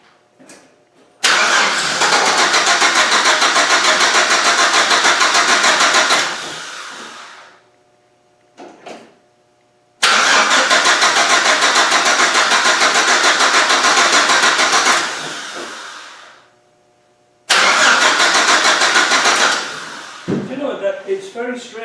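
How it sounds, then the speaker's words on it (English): GM Vortec engine with an apparent fuel pump fault being cranked without starting, three long loud bursts of steady starter whirring separated by pauses, close, the last one trailing off into clatter. "Let's crank it a bit more."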